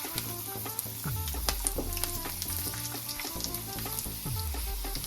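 Chana dal and urad dal frying in hot oil for rava upma, a steady close, loud sizzle with crackling pops and occasional stirring scrapes throughout.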